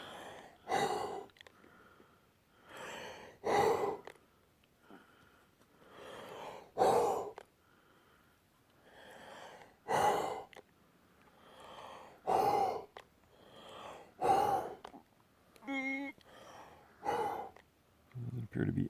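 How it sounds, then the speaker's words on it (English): Several deep, forceful breaths blown close into a gifting bowl, repeated at intervals, each a breathy whoosh with quiet gaps between. "So now let's do the deep breath blow."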